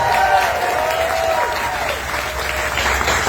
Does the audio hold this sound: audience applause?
yes